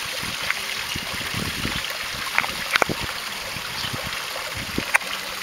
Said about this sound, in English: here's my pond after the whole half pond rebuild. Running good.